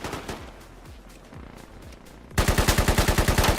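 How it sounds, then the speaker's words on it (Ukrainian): Gunfire in the military shooter Squad: scattered distant shots over a low rumble, then a loud, close automatic burst of rapid, evenly spaced rounds for the final second. "по ним бахують з правої сторони"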